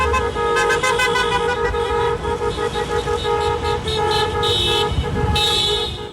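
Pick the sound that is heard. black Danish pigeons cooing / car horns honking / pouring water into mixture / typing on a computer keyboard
car horns honking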